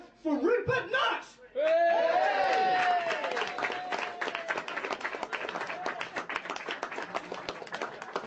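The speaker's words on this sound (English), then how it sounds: "He wants to remain anonymous, so can you give a big cheer for Rupert Knutt?" A studio or club audience breaks into loud cheering, whoops and sustained clapping for a comedy performer taking the stage, starting close and dense and then settling into steady applause with a few shouts.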